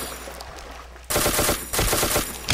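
Loud bursts of rapid automatic gunfire from the blocky shooter game Ace of Spades rattle in two sustained volleys, with a quieter stretch before them.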